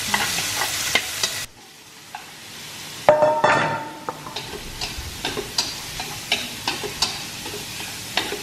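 Food sizzles in a hot pan while a utensil scrapes and taps rhythmically against it, close up, with a brief louder hiss partway through.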